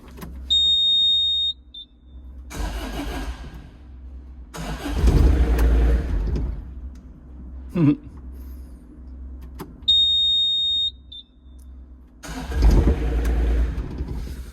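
An engine cranks in two separate attempts, each a loud starter churn lasting a couple of seconds that sputters without catching. A high electronic beep sounds just before each attempt, and there are quiet gaps in between.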